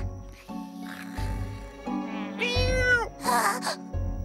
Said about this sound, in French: C'est Minouche, la chatte.